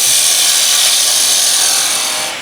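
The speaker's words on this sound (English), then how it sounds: "I'll just undercut the bottom with the skew" A skew chisel undercutting wood on a lathe, a loud, continuous rushing hiss of cutting close by, fading slightly as the cut finishes.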